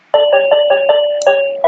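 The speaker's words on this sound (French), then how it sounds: "Désolée pour le bruit du téléphone" A phone ringtone sounds loudly and close, a rapid series of repeating electronic tones in an even rhythm.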